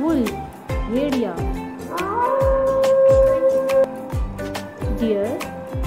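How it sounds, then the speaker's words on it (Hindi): A wolf's long, rising howl is sustained for a couple of seconds in the middle, over a bouncy children's nursery-rhyme beat with sung vocal phrases. "Wolf, भेड़िया."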